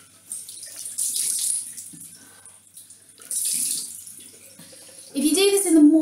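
Cold water runs from a bathroom tap in intermittent splashy gushes, with a voice heard briefly near the end.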